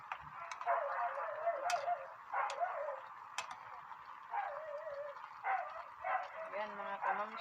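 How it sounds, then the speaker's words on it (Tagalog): Several pet dogs yip and bark in short, high bursts at close range, with a person talking over much of it. "pasensya kayo mga kamamsi dahil lang ang ingay. Dahil ang dami kong alagang aso."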